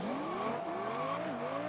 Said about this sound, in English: The engine revs rise and the 1991 Spanish Grand Prix is go!